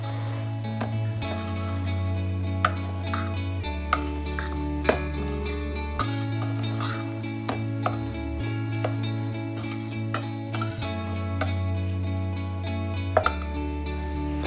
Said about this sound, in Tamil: இனி எல்லாத்தையும் போட்டு மிக்ஸ் பண்ணுவோம்.